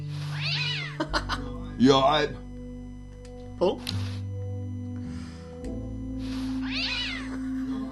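Cartoon cat meows from the Day of the Tentacle adventure game, a few short yowling calls spread across the scene over game music, with someone talking in between.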